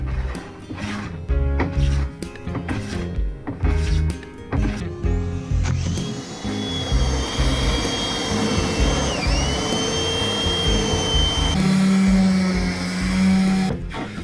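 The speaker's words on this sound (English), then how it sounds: "finishing with a belt sander followed by a finishing sander" A belt sander runs on a wooden desk top after a few knocking handling sounds, whining steadily and loudly for about eight seconds with a brief pitch dip midway and no talk.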